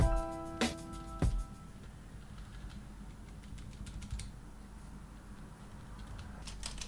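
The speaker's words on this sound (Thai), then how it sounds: "ถือว่าเบานะครับสำหรับใครที่อยากได้คีย์บอร์ดเบาๆไม่ไม่ดังมากแต่ก็มีเสียงอยู่นะครับ" Someone types on a Gearmaster Phantom Max GMK-098 keyboard with semi-blue switches. A couple of sharper clacks open a run of light, quick, close keystrokes with a soft, moderately quiet clatter.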